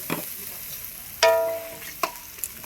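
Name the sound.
ginger and onion frying in oil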